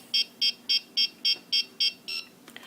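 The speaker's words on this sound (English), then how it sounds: "On switch, it'll beep" A WLToys V911 four-channel RC helicopter transmitter beeps on switch-on: eight short, evenly spaced high electronic beeps in quick succession, close and clear, followed by a faint click.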